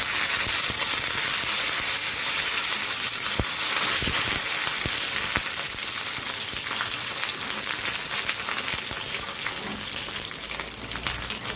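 Urad dal and curry leaves fry in hot oil for coconut chutney, giving a loud, steady, dense sizzle with crackling pops scattered throughout and no voices.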